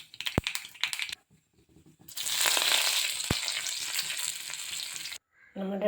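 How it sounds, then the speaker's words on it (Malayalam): Mustard seeds crackle and sizzle in hot coconut oil as a tempering for green coconut chutney, a steady close spitting hiss lasting about three seconds after a couple of sharp knocks, then stopping abruptly. "വെളിച്ചെണ്ണ ഒഴിച്ച് കടുകിട്ട്"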